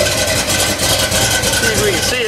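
A rebuilt drag car motor idles with a steady, rough engine drone, loud and close, while a person talks over it.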